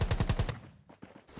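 Automatic gunfire in the battle-royale video game Rules of Survival: about five rapid, loud bursts in quick rhythm, then quieter scattered shots and rustling.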